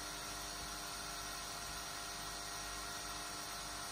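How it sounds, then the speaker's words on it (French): Ortur Laser Master 3 laser cutter working on a 14 mm wooden board, a steady, continuous high-pitched whine and fan hiss that holds at an even level throughout without pauses. "On va lancer le système. Là, on est sur la protection et ça va attaquer la planche de 14 mm."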